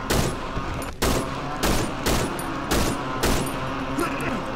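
Gunfire from the horror video game Cry of Fear: a burst of repeated heavy shots at a steady rhythm, about one per second, loud and close over a dim ambient background.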